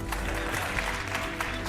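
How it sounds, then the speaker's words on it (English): An audience claps during a light-hearted speech, a steady, dense patter of applause throughout, with a voice faintly underneath. "yeah, if you know Hindi, please clap."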